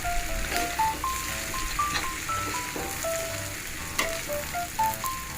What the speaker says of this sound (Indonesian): Kemudian kita masukkan tempenya yang sudah kita goreng tadi ya, terus kita aduk sampai rata